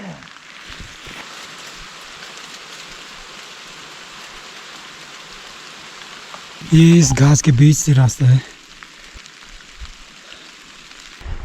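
Rain patters steadily through the forest onto a steep grassy mountain trekking path, an even hiss that a voice talks over for a couple of seconds midway.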